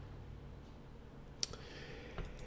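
Computer mouse double-clicking on a Windows PC, two small sharp clicks close together near the middle, followed later by one softer click, all close and fairly faint over a quiet room hiss.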